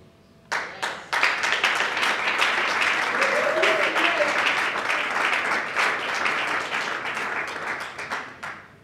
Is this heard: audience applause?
yes